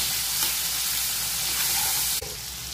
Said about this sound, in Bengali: টমেটোটা একটু ভেজে নেব।